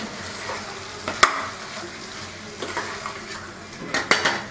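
Chicken being stirred with ground black pepper and salt in a frying pan, a steady close sizzle broken by several clanks of a utensil scraping the metal, no voices over it.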